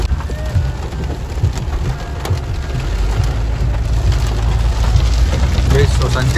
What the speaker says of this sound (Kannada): ಆರು ರೇಂಜಿಗೆ ಮಳೆ ಬರ್ತೈತೆ ಇವತ್ತು.